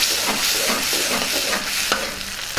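Ginger garlic and tomato paste frying for green peas masala curry, a close sizzle under repeated stirring with scraping strokes and a few sharp clicks of the spoon against the pan.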